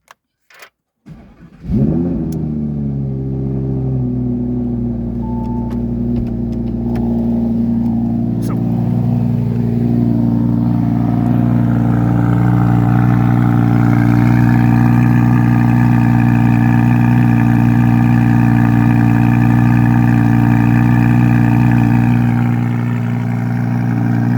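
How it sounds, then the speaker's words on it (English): A Lamborghini engine cranks and fires, then settles into a loud, steady, rumbling idle on choke, close by and heard alone for over twenty seconds. "So let's start the engine."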